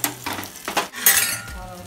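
Hot oil sizzles and crackles in short bursts as dal tadka is tempered, with stirring and faint clinks of a utensil against a pan, close by.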